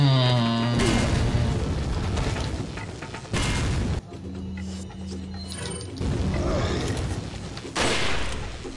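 Grenade blasts in the Resident Evil 4 video game, loud booming bursts and rumbling game noise with mechanical clatter, a few distinct jumps in intensity across the stretch, no talk.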